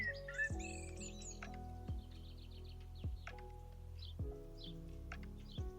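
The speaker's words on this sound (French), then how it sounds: "Tu écoutes des craquements doux de feuilles, un oiseau au loin" A bird chirps and tweets in short bursts over a low, steady hum, the calls fairly faint and spaced out.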